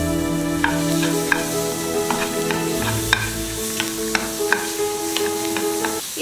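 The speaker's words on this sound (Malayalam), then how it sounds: "നമുക്ക് സവോള പൊടിയായിട്ട് അരിഞ്ഞത് ഇതിലേക്ക് ഇട്ട് കൊടുക്കുക." Finely chopped onions frying with hot whole spices in a pan for mutton kabab, a continuous sizzle with regular spoon-scrape stirs against the pan, close and fairly loud.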